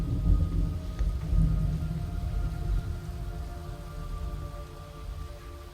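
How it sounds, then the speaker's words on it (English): Rain and rumbling thunder in the Metal Gear Solid Delta: Snake Eater video game, low rolling thunder over a steady hiss of rainfall, with no voices. "It's raining blood."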